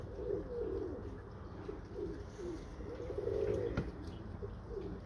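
Pigeons coo softly in repeated low, rolling phrases against a steady background hum, the calls fairly faint and continuous with no voices present.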